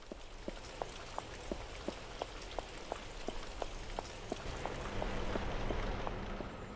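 Steady rain falling around a large mansion in a game, a dense even hiss with faint regular footstep-like taps running through it.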